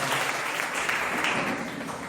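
Steady applause from a group, a dense wash of clapping hands that holds at an even level throughout, with no talking.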